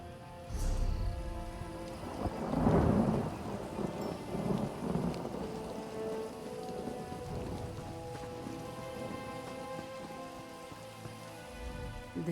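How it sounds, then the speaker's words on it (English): In the Elder Scrolls Online video game, a thunderstorm rolls through, with deep rumbling thunder early on over steady, dense rain pattering on surfaces throughout. "This one feels a storm brewing."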